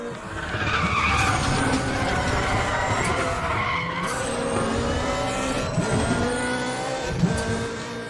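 A race car in Need for Speed skids and slides, with loud wavering tire squeals over a constant revving engine roar, gliding pitch sweeps running throughout.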